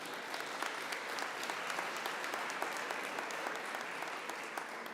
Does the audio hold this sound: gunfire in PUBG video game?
no